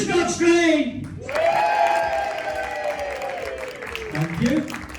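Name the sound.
audience applause at comedy hypnotist show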